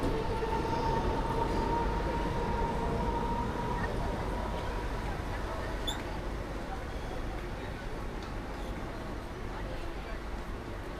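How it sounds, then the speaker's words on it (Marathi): A Mumbai slow local train bound for Chhatrapati Shivaji Maharaj Terminus rolls into the station with a dense, continuous rumble and a faint steady tonal hum, slowly easing in loudness. "चला तर आपली ट्रेन पण आलेली"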